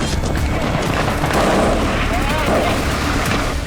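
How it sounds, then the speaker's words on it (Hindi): Gunfire pops and bangs repeatedly during a military live-fire drill over a constant rumbling background, with some voices audible in the mix. "लाइव फायरिंग की प्रैक्टिस हो रही।"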